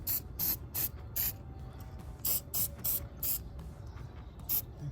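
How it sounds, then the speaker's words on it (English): Short bursts of anti-corrosion spray hiss onto the battery terminals of a Jeep Wrangler JL, a string of about ten quick puffs in uneven rhythm, close and fairly quiet with no talk. "corrosion spray."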